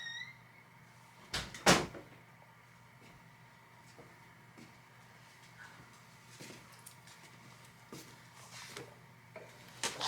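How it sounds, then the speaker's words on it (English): A room door in a home is pushed shut with one sharp, fairly loud thud, then quiet room tone with a few faint ticks and small knocks. "I need to go close my door"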